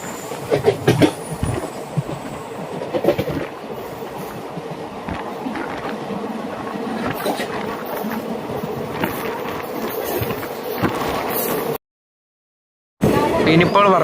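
The Punalur–Madurai Express runs at night on rails near Varkala Sivagiri station, a steady rumbling roar with rattles and clacks, voices heard inside the crowded general coach, then a brief dropout before the sound resumes.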